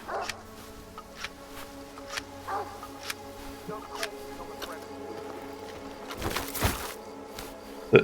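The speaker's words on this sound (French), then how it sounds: "je vois des chiens qui se battent" Dogs fight in the video game Stalker 2, giving scattered barks and yelps over a low, steady game ambience, with a louder burst of snarling near the end.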